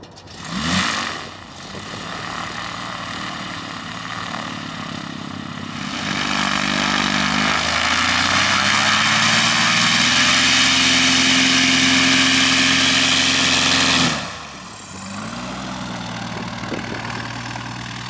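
Engine of a Cessna Skywagon light aircraft on big tires during a takeoff roll, steady propeller drone that rises to a loud full-power roar for several seconds, then drops back toward idle.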